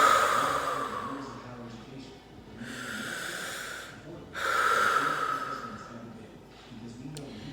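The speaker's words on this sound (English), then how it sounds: "I'm going to take a couple deep breaths." A person sitting on the floor takes slow, deep breaths through the nose, two long airy inhales and exhales close to the microphone, with a low steady hum underneath.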